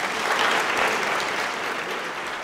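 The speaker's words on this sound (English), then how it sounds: "Give yourselves a round of applause." Audience at a Memorial Day luncheon applauds in a steady, dense round of clapping that holds evenly and fades slightly toward the end.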